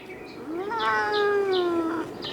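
A cat meows in a cat adoption room, one drawn-out rising and falling call lasting about two seconds, close and clear with no talking.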